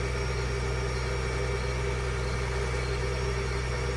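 Tractor engine in the video game Farming Simulator 2013 running at a steady idle, a continuous low droning hum with even vibration, moderately loud and unchanging, with no talking over it.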